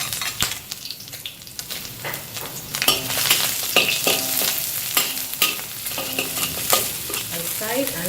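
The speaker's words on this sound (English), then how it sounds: "I fry it until both the garlic and the ginger become slightly brown." Garlic and ginger frying in a wok, loud crackling sizzle with busy stirring and metal scraping, close and continuous throughout.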